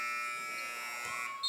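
Game-ending buzzer sounding in a college men's basketball gym, National Park College vs. Crowley's Ridge College JV, a loud steady electronic tone held through the whole moment with faint crowd murmur underneath.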